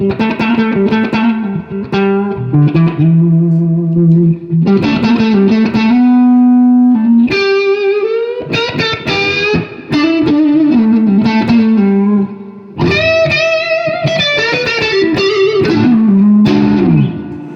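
Electric guitar on the neck pickup plays chords and riffs through a mid-scoop effects pedal, the tone shifting between scooped and fuller sounds as the effect switches on and off.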